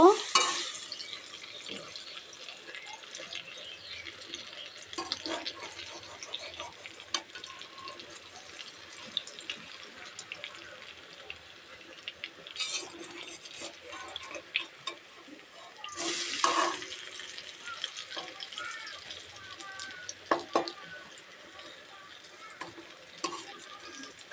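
Pea chops frying in oil in a pan give a soft, continuous sizzle, with a few louder clatters and scrapes as they are slowly flipped.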